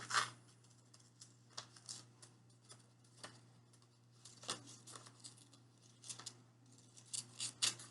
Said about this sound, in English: So I'm going to cut my tail off.